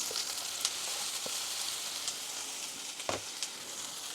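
Onion, ginger and green chilli fry in hot oil for upma, a faint continuous sizzle with a few soft clicks of utensils against the pan, heard close and quiet.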